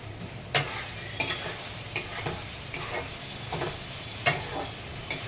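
Mutton being stirred and fried as kosha in a pan, a steady sizzle broken by sharp scrapes of the spoon at irregular intervals, about one a second, close and clear with no talking.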